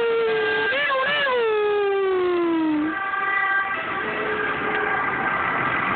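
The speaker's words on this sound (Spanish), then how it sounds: "Aquí ven la ambulancia" An ambulance siren in Rome, Italy, sweeps and slowly drops in pitch, then holds a steadier tone amid loud traffic and city noise.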